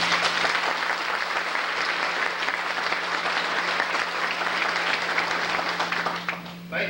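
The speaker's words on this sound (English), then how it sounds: "let's have a round of applause" A large crowd at a Chamber of Commerce banquet claps continuously, a dense steady wash of applause that holds for several seconds before tapering off at the end.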